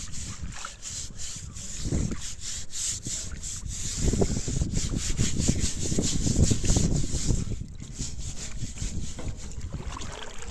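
Rough scrubbing of an animal water trough fouled with straw and windblown dirt, a continuous close, rasping rub with uneven strokes that swells in the middle and eases off toward the end.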